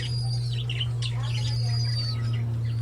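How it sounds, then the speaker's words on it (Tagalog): Pet farm birds chirp and tweet in scattered, high calls, fairly faint over a steady low hum that runs throughout. "Pakainin muna natin yung mga alaga nating ibon"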